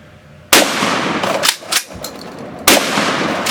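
Gunfire at close targets outdoors: a loud blast hits about half a second in, followed by a few quieter cracks and a second loud shot near the end, with no talk.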